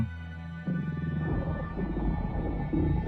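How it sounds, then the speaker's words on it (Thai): A creature in a dark forest in the Children of Silentown video game lets out a deep, rumbling roar that fades away, with low droning tones beneath it and no speech. "เป็นป่ามืดน่ากลัวมีบางอย่าง เสียงคำราม แล้วก็ดับไป"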